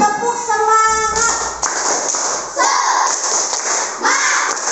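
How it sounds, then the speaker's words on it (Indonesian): A classroom of schoolchildren claps together in a loud, dense burst of applause that fills the room, the clapping rapid and uneven, following a brief stretch of voices at the start. "Tepuk tangan untuk kita semua."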